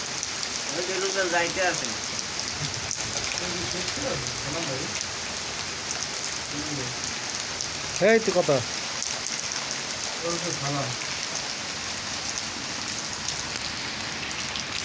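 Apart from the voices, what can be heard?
rain falling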